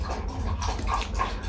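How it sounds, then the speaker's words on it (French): A dog whimpers and snuffles close by, a continuous low, whiny sound with a steady rumble beneath, heard alone without talk. "C'est mon chien."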